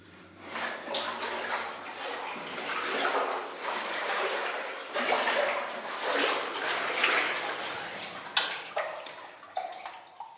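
Someone wades through water inside the abandoned Mary Nell Mine, making continuous close splashing and sloshing with bursts of heavier sloshing near the end.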